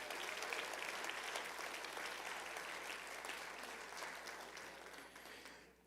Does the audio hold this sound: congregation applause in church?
yes